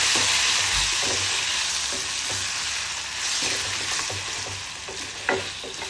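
Kerala-style country chicken roast (nadan kozhi ularthu) sizzles loudly in a pan while being stirred, a close, steady frying hiss with scraping strokes running throughout and no talking.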